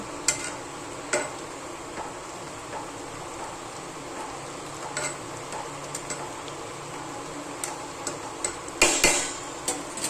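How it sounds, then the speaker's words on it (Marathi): A spoon stirs fenugreek (methi) bhaji in a pan, giving sparse metallic clicks and light scraping over a quiet background, with a louder clatter of utensil against pan near the end. "काळी पडू नये म्हणून अशी हलवावं लागते"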